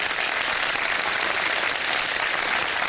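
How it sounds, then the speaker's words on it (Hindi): Steady, dense applause from a studio audience at a televised Ramadan iftar game show during a prize giveaway, loud and continuous throughout without pause. "तालियां बजाते हैं भाई"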